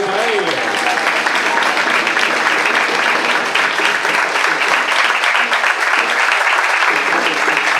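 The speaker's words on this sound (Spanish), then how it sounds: "Fuerte aplauso para él" Loud, sustained applause from an audience at a municipal political event in Argentina, dense clapping filling the whole stretch with crowd noise and some voices mixed in.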